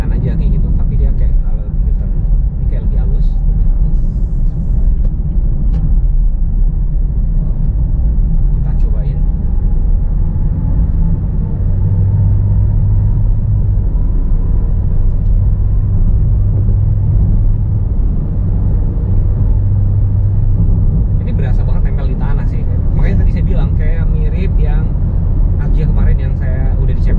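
Honda Brio hatchback on a test drive gives a continuous low engine rumble and road noise inside the cabin, steady throughout while people talk over it.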